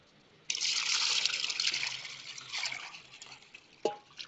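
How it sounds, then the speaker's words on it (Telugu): Water is poured into a pot holding a freshly transplanted lotus in soil. A close, bright splashing pour starts abruptly, runs for about three seconds, fades, and ends with a single sharp knock. "వాటర్ వేసుకుంటాను నేను."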